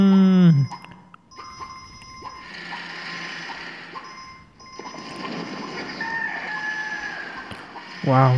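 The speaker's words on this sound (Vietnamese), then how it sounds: "vừa nói xong gà lại gáy tiếp." A rooster crows in a video game, a drawn-out call at the start and another cutting in at the very end, with game ambience and chimes running faintly in between.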